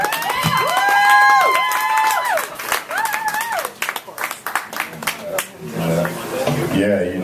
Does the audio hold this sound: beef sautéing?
no